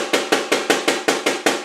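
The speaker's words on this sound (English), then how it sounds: "to make a mummy-daddy roll, you want to join them up so it sounds like this" Eight crisp, evenly spaced double strokes on a caixa snare drum in a quick, steady roll, each with a short bright rattle, played alone.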